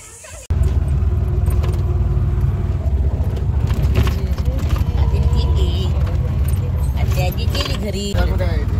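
An auto rickshaw arriving, its engine rumbling loudly and continuously nearby with rattling and clinking over the top, while people talk over it.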